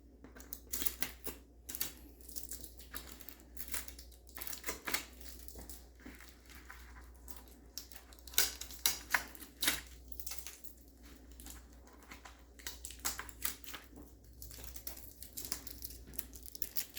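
Tape being peeled off the edges of a Sphero gameboard, a series of close crinkling, ripping crackles in irregular bursts over a low background hum, with no talking.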